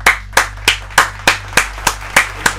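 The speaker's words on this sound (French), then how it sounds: "on peut s'applaudir" A group clapping for themselves in steady unison, about nine sharp, evenly spaced claps roughly a third of a second apart, close and crisp over a faint low hum.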